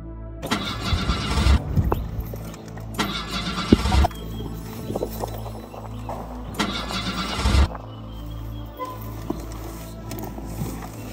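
Car engine cranking and struggling to start, with three separate loud bursts of whirring starter noise separated by pauses, close and clear with no talking.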